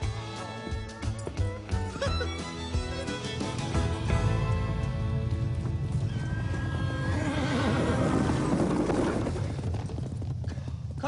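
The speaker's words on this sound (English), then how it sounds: "Carnsarnet, it's that wild horse again." A wild horse in a Pecos Bill cowboy story neighs loudly and gallops, with rapid hoofbeats and a long whinny over a dense, continuous soundtrack.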